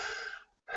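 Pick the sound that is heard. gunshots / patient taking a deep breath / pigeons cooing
patient taking a deep breath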